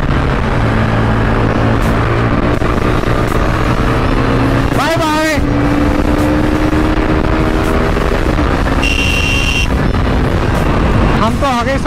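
Motorcycles on a group ride, including an R15, roar and accelerate continuously with rising and falling engine whines, wind buffeting throughout, and people talking over the engines.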